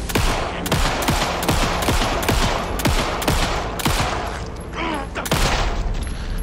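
Rapid gunfire from the video game Alan Wake 2, a steady string of loud sharp shots fired close together for several seconds, with a brief lull before the shooting resumes.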